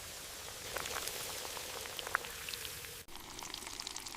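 Batter-coated Oreo frying in hot oil in a miniature kitchen, a steady close crackling sizzle of dense tiny pops with one brief dropout near the end.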